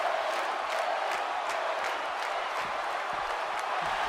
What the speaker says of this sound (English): And now the crowd getting behind Bayley.